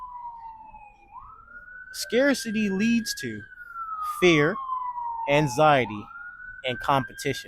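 A wailing siren rises and falls steadily in the background while a person talks over it.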